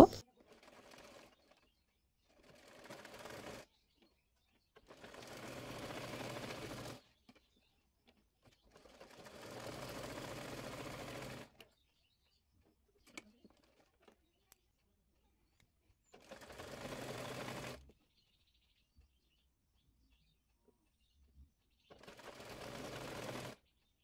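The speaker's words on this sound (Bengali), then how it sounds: "এরপর নিচের অংশের সঙ্গে বডি পার্টের কাপড়টি সেলাই করে নেব।" Sewing machine stitching the body and lower skirt panels of an umbrella-cut baby frock, running in five or six separate bursts of a few seconds each with quiet pauses between.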